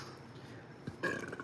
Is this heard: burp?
yes